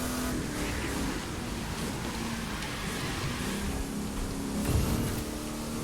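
Car engine in the racing video game The Crew 2, holding a steady droning hum near its top speed, fairly quiet and unbroken with a slight swell near the end.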